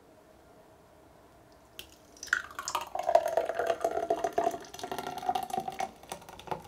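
A smooth blended drink made in a copper Vitamix Pro 750 is poured into glasses. The liquid gurgles and splashes steadily for about four seconds after a quiet start, close and clear with no talking.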